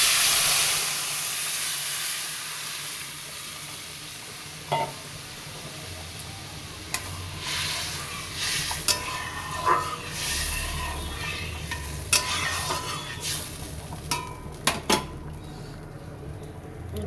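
Lentils go into a hot frying pan of spinach, with a soft steamy hiss under repeated sharp spoon scrapes and clinks against the metal pan as they are stirred, close by.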